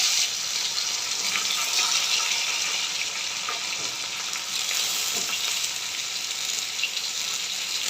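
Potato slices fry in a pan with a steady, close sizzle and crackle, plus faint scraping as they are stirred. The sound is dense and continuous, and no one speaks.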